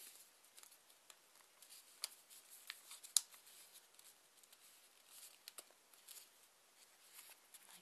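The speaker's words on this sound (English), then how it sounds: "Now we take the next set of corners on the inside and fold them outward." Origami paper for a rose is creased as inner corners are folded outward, making faint, soft crinkles and small taps scattered through a quiet stretch.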